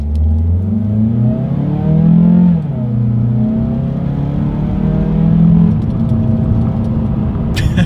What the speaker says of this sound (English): let's go ahead and do a quick little acceleration test in our 2020 CX-3, and let's see how quickly we can get this one here up to speed